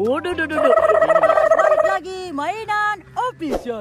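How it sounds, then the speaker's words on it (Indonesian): A chicken by a village fish pond gives loud, warbling clucks close by, interrupted by someone talking between and over the calls. "Sepertinya ada ayam teman-teman"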